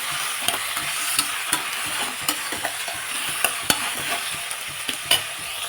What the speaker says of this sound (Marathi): बटाटे सगळे व्हेजिटेबल आपण छान दोन मिनटं भाजून घेऊ